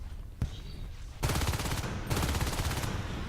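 A short single gunshot, then two dense bursts of rapid weapon fire from shotguns and grenade launchers in the shooter game Natural Selection 2, loud and close with faint voices beneath.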